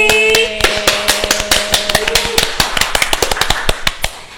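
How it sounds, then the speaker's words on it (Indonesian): A small audience claps for a prize winner at a tech academy event: a few loud, distinct hand claps that spread into a looser, uneven patter and slowly fade. "Kasih tepuk tangan dong semua di sini."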